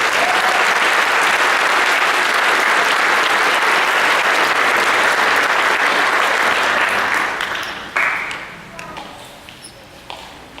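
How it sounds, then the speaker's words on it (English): A theater audience at a college faculty follies show applauds loudly and steadily for several seconds, then the clapping thins out and fades with a few scattered claps. "let's give them a round of applause"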